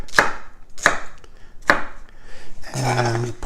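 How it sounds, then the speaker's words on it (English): A knife chopping celery on a cutting board, with three sharp, evenly spaced thuds close up, followed by a short rustle and clatter as the pieces are handled. "I'm going to cut them half lengthwise, and then a little bit more"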